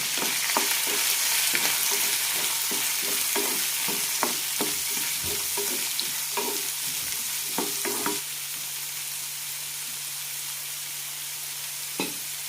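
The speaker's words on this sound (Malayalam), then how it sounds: "പച്ചമുളക്, കറിവേപ്പില, ഇഞ്ചി, സവാള ഇടുന്നത് ഒന്ന് വഴറ്റിയെടുക്കാം" Green chili, curry leaves, ginger and onion sizzle and fry in a pan for maize rava upma, with steady close frying hiss and repeated scraping stirs of a spoon against the pan, then quieter sizzling.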